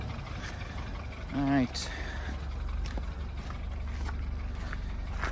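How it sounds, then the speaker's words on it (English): A 2013 BMW 328xi engine idles steadily with a faint ticking, a low constant rumble that runs beneath a man's brief remark and a short whistling tone partway through. "it sounds a little bit ticky, but again, these engines, they sound like that"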